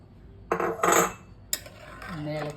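A metal spoon clanks and scrapes against a pan while egg stew with milk and pepper is stirred, giving two bright clattering bursts and a sharp clink, close and loud, with no talk.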